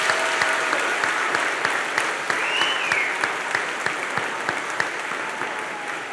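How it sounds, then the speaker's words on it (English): Steady crowd applause at a middle school graduation ceremony for the named graduates, a continuous wash of many hands with individual claps audible throughout and a faint whistle or voice rising briefly above it. "Big round of applause, folks."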